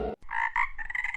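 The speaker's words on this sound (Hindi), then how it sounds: "मेंढक टर्रा रहे हैं" Cartoon frogs croak in a pond, a chorus of rapid repeated croaks following one another closely and loudly, with no talking over them.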